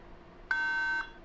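A single clean electronic beep from a quiz show answer buzzer sounds for about half a second, clear and alone against a quiet room background.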